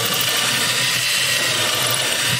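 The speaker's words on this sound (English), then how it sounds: "I'm drilling into my backer now because I'm getting the white now." A power drill bores through padauk wood on a Martin guitar repair, giving a loud, steady, close whine and grinding drone with no breaks.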